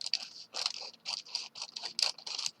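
Scissors cutting through a sheet of parchment paper for baking envelopes, a run of about eight crisp snipping and scraping cuts in quick rhythm, close and clear with no voice.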